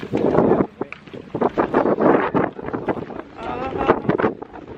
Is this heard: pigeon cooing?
no